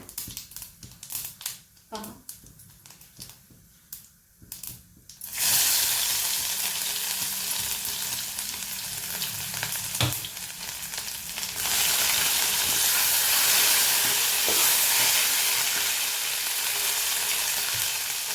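Crushed garlic, coriander and cumin drop into hot tempering oil and burst into a loud, steady sizzle after a few scattered clatters and taps, growing stronger toward the end, with someone talking over it.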